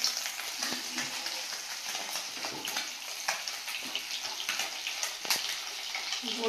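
Dried red chillies sizzle in hot oil in a home kitchen pan, a soft, steady frying hiss broken by scattered crackles and pops, close but fairly quiet.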